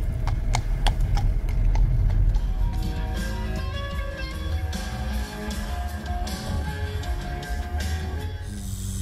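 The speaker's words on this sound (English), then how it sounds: "It's a big horse, man." A big horse's hooves clip-clop in a steady rhythm, close and prominent for several seconds, with faint background noise and no talking.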